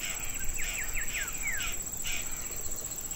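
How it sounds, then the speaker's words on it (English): A lineated woodpecker calls in Cerrado scrubland, a fast series of bright, rising notes in two short bursts, moderately near over steady insect and ambient hiss. "Here we have the lineated woodpecker."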